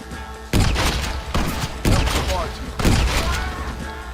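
Heavy shotgun blasts from the video game Red Dead Redemption, four loud booming shots spaced roughly a second apart, each trailing into rumbling decay, with faint game voices in the background.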